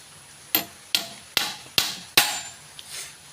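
A 2-inch nail is hammered into wood while a kavadi tray is built, with five sharp, evenly spaced hammer strikes, each ringing briefly, followed by a fainter knock; close and clear with no talking.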